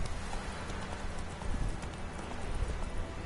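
Roach, the horse in The Witcher 3 game, gallops with a steady, fast clip-clop of hooves, continuous and fairly loud, over a low rumbling game background.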